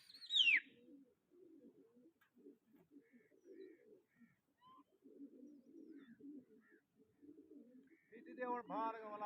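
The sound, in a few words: pigeons cooing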